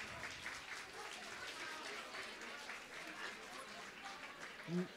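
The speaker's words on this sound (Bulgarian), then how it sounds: "аплодисменти за него" Faint, distant applause from a crowd, with voices mixed in and a brief louder sound near the end.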